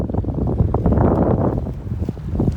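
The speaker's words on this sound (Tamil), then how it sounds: "இந்த பாருங்க மக்களே, சரியான காற்று வந்தோம் கடலுக்கு. இந்த பாருங்க காற்று." Strong wind roars steadily over a fishing boat at sea about 10 km offshore, a loud, continuous gusty rush buffeting the microphone with no voices.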